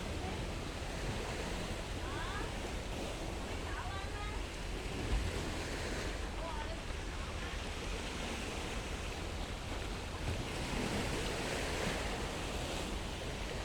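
Steady rushing surf of ocean waves at the shore, broad and continuous, with wind noise across the microphone and faint voices in the background.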